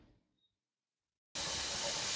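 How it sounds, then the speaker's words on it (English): Steam bursts from a pressure canner's vent pipe after a moment of near silence, a loud, steady, close-up hiss that holds without pause to the end. "The next milestone is steam coming out of the pipe."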